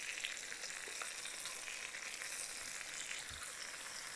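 Soaked basmati rice for chicken biryani goes into a hot pot, giving a steady, close sizzling hiss with faint stirring and scraping throughout, and no voices.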